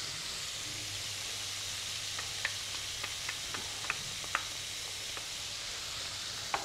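Onion sizzling as it hits a hot pan where meat has browned, a steady loud hiss of frying with scattered crackles and pops, low background hum underneath.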